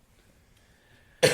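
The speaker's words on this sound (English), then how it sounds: "why are you coughing in the mic" A single short, loud cough bursts right into a microphone at the very end, after near silence.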